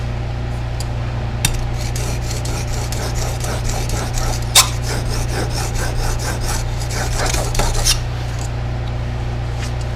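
A Stanley No. 4 plane iron rubbed back and forth on a 1000 grit stone, giving a steady gritty rasp with repeated strokes, close and alone over a constant low hum.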